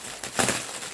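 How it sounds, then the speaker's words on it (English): Crinkly plastic bag rustling from an AliExpress package, close by, swelling into a louder burst midway then continuing softly. "as you can kind of hear the rustling, sounds like a lot of bags"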